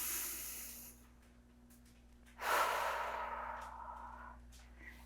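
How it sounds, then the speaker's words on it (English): A deep breath during a gentle hip-opening yoga session: a soft exhale fades out, then after a quiet pause a strong, close inhale rushes in and trails off slowly, with no talking. "We take 2 deep breaths here. Inhale and exhale."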